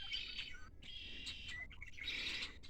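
Migrating red-winged blackbirds being fed black sunflower seeds chirp and tweet in repeated bright bursts, a busy, fairly close flock calling almost without pause.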